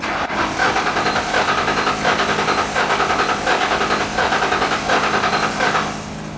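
An old Ford Mustang GT, left abandoned in a field, is being started, giving a loud, rhythmic pulsing engine churn that repeats steadily for several seconds before easing off.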